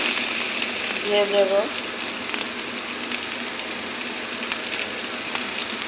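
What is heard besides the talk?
onion frying in hot oil in a wok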